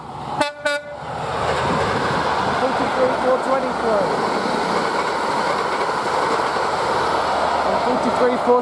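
A Grand Central HST high-speed train at York opens with a quick burst of horn toots, then passes close as a loud, steady rumbling roar with faint squeals.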